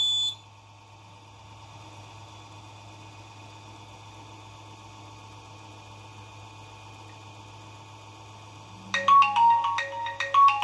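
Call alert from an Arduino GSM gas leakage detector: a sharp, loud electronic ringtone of rapid beeping tones bursts in during the final two seconds, after a long stretch of low steady hum.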